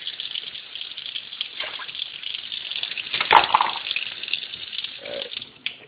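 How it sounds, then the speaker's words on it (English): Water is poured from a measuring cup into rice in a cooking pot, giving a close, hissing gush that swells to a brief splash midway and then trails off into small trickles. "Got the water in the rice"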